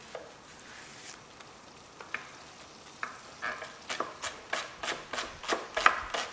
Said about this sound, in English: if you sweat them off like this, absolutely delicious